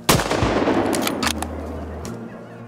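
A single loud hunting rifle shot cracks out at close range at the start, followed by a decaying rumble and echo in an outdoor hunting setting, with no talk.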